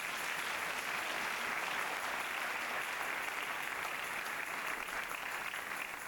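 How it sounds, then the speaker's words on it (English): A church congregation claps together during Pentecostal worship, producing a steady, dense wash of applause that holds at a constant level for several seconds with no voices standing out. "If you want to clap unto God, you can do it."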